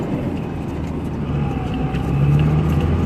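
Car driving up the driveway to the north gate of the Ponca City landfill, a steady low engine and road rumble that grows slightly louder toward the end, with no talk.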